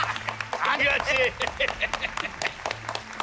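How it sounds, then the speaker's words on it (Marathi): Clapping breaks out for a victorious wrestler at a village wrestling bout, a short burst of claps rising under loud announcer-style talk and crowd noise. "त्याच्यासाठी जोरदार टाळ्या"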